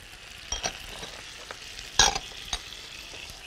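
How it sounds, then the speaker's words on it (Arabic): Zucchini sautés in a pan with a faint, steady sizzle, broken by several light utensil taps and scrapes as it is stirred. "كده هنزل بالكوسه"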